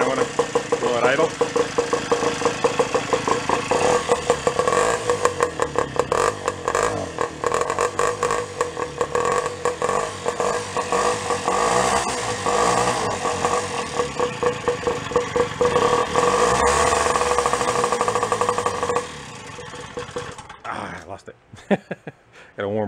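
A motorcycle engine idles with an uneven, knocking rumble that runs steadily before sputtering and dropping off near the end.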